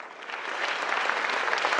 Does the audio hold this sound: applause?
yes